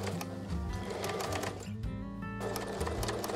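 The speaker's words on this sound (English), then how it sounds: "I'm stitching just until I get to the edge here of my hem" A sewing machine stitches a blouse sleeve hem, its motor running in a steady, fast mechanical rattle that stays close and continuous, with a brief change in pitch midway.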